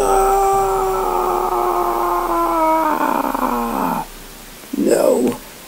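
A dog growls low and steady for several seconds, then breaks off; after a short pause comes a brief rising howl-like yelp.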